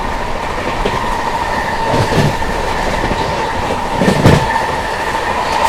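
Sikkim Mahananda Express passing through Makhanpur station without stopping, heard as a steady close rumble of train wagons with faint clickety-clack, rising slightly around four seconds, with no talking.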